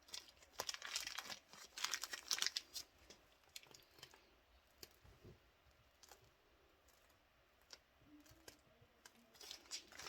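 Spackle being squeezed from a 16-inch Wilton piping bag through a 1M tip, soft crinkling and squishing of the plastic bag in quiet bursts, with small clicks between them.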